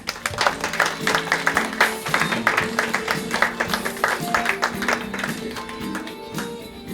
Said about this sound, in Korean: 마찬가지로 올라오실 때 따뜻한 박수 부탁드리겠습니다